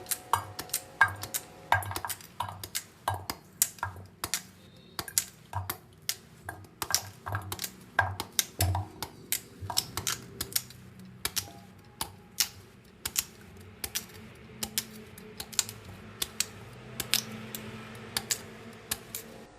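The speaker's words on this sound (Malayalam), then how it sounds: "ഇനി ഈ കിഴങ്ങ് നമുക്കൊന്ന് കട്ട് ചെയ്യണം." Peeled tapioca (cassava) pieces chopped with a knife, producing a long run of sharp, fairly regular taps on a board. Some strokes come in quick bursts, others are spaced out, all close and fairly quiet.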